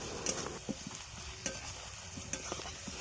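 Onion paste, bay leaf, a little sugar, ginger paste and garlic paste being stirred in a pan for a jackfruit curry: soft, low sizzling with a few sharp clinks and scrapes of the spoon against the pan.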